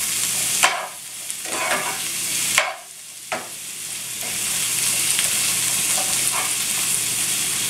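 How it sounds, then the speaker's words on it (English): Onions and bell peppers fry in a pan with a constant close sizzle, broken by a few sharp scraping stirs and tosses, and no talking. "Next, I'm gonna be adding all of my onions, tossing those in."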